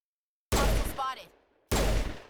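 Two loud bursts of gunfire aimed at power junctions in Mass Effect, with a mechanical whir between them and speech-like sound mixed in.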